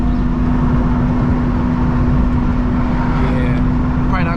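A BMW M2 GT3 race car with a full catless exhaust drones loudly and steadily from inside the cabin while driving, a dense, constant engine roar with no breaks.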